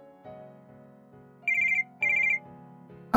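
An electronic telephone ringtone plays a short melodic phrase with brighter high bursts in a regular pattern, clear and close, alone without talk.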